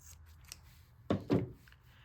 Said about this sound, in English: I'm gonna just cut these other two sponges in half